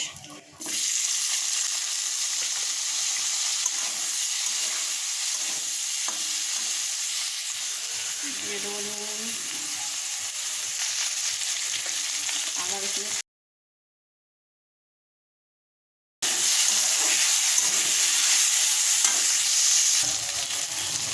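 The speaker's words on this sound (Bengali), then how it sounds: "তেলের মধ্যে লং দারচিনি আর এলাচ তারপর দিয়ে দেব পেঁয়াজ" Cloves, cinnamon and cardamom go into hot oil, followed by onion, giving a loud, continuous close-up sizzle and hiss with a few seconds of complete silence partway through.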